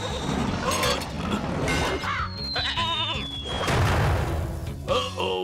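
Several high, wavering bleats from young sheep, repeated a few times amid clattering and background noise.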